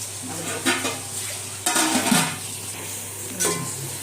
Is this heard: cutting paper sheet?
no